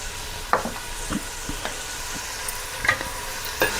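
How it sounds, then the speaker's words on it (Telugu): Onions fry in a pan with turmeric and salt as a spoon stirs them, a steady sizzle broken by scattered scrapes and clinks against the pan, close and fairly loud with no talking. "అటు ఇటు కలిపేసి మూత పెట్టేద్దాం, తొందరగా మగ్గిపోతాయి."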